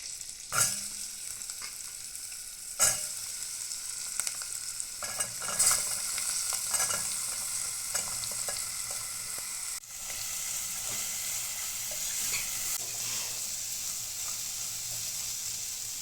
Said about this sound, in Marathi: आता कर्टुले टाकून घेते